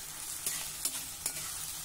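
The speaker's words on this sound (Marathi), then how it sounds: "कांदा 1 मिनिटासाठी परतून झाला" Onion sautéing in a pan for an urad dal dish, with a low steady sizzle and three soft stirring scrapes, faint and close, no talk.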